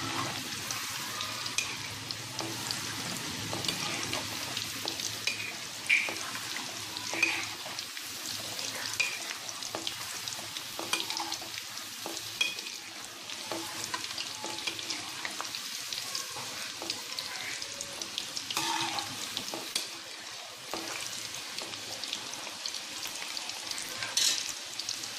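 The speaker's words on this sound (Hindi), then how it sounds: "इसकी हमें ग्रेवी बनानी है, इसलिए हमें ज़्यादा इसे फ्राई करने की ज़रूरत नहीं है।" Mutton kofta frying in oil in a pan, a steady close sizzle with occasional stirring clatter and small crackles that runs for the whole stretch.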